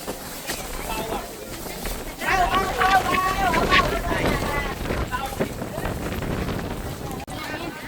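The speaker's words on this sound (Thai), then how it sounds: "วันนี้ลมแพงครับ" Strong wind buffets the microphone at an outdoor Thai-Lao riverside market in Tha Uthen, Nakhon Phanom, a loud, steady rushing roar with gusts, while voices and the market's bustle murmur beneath it.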